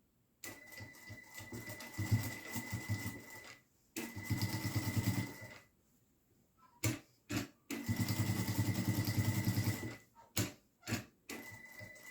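A sewing machine runs in several bursts while stitching a bias-bound seam, a steady fast mechanical whir broken by pauses and a few short taps, close and fairly quiet, with no talking.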